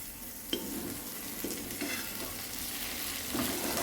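Brinjal frying in oil in a pan, stirred with a ladle: a steady soft sizzle with a few dull scraping turns of the ladle, close and fairly quiet.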